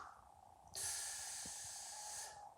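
A forceful breath during a barbell tricep exercise, one long loud hissing exhalation close to the microphone after a quiet lead-in, then fading, with no speech.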